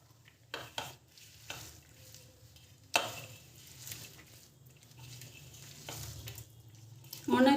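Mashed eggplant is worked together with a spoonful of oil, giving quiet, soft squelching and stirring sounds with a few light knocks and a sharper clatter partway through.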